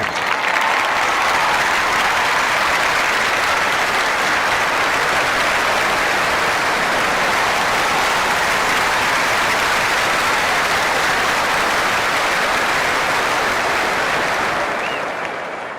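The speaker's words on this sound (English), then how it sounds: "already the crowd is up and about" A large cricket crowd at a Sri Lanka versus England one-day international applauds as the match gets underway, a dense, loud, continuous wash of clapping that runs unbroken and fades slightly at the very end.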